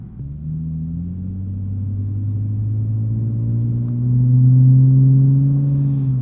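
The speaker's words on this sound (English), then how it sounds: "the axle back is a little loud. It's a little droney." A loud, steady axle-back exhaust drone from a 2022 Lexus IS350 F Sport, a low humming rumble that swells slightly as the engine climbs, with no other sounds.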